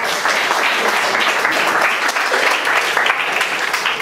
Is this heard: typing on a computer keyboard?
no